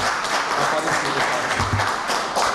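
Dense, loud applause from a sizable audience at a sports event, a steady wash of clapping with faint murmuring underneath.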